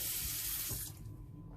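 A sink tap nozzle aboard a boat runs with a loud, close hiss of water that cuts off abruptly about a second in, leaving quiet behind.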